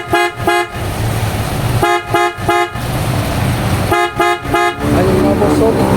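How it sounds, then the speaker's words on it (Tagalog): A Superior Bass Horn fitted to a Mitsubishi Montero sounds in three groups of three short, loud, deep honks with brief pauses between them, close up, while an engine idles underneath and someone talks. "sample natin mga boss yung tunog ngayon ng Superior Bass Horn"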